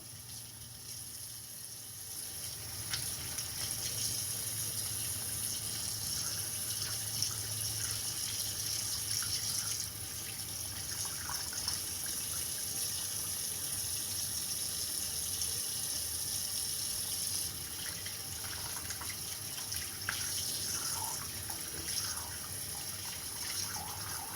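Warm water runs steadily from a tap for the whole stretch, a close, even gush with slight changes in flow, used while shaping a single bead ring; no talking.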